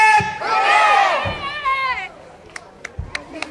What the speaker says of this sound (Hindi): 3 बार चीयर्स करना है।